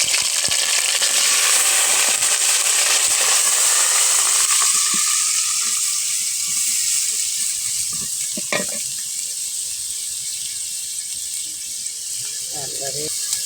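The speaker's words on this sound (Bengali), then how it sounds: "এখন দিয়ে দেবো পেঁয়াজ বাটা।" Onion paste dropped into hot oil with cardamom and cinnamon for chicken masala, a loud hissing sizzle that settles into a steady fry with occasional stirring clinks.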